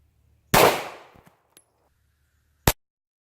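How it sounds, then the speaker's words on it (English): A 9mm handgun fired with Winchester 119-grain rounds into a watermelon outdoors gives one loud, sharp crack with a short decaying tail, a few faint clatters, then a second brief sharp bang. "First up is a 9mm. I'm shooting Winchester 119 grain."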